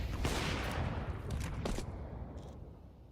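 Counter-Strike match gunfire, a muffled burst of rapid shots at the start that fades into scattered distant pops and rumble, fairly faint and mixed with game ambience.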